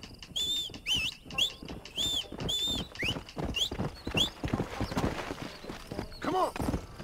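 Horse hooves clip-clopping in an uneven rhythm in the video game Red Dead Redemption, mixed with high chirping whistles and other game sounds, fairly close.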